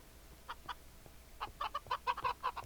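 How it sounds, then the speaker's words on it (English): Minecraft chickens clucking in the game, a few soft clucks followed by a denser run of quick clucking calls, fairly faint and with no talk. "Hi, chickens. You're doing fine."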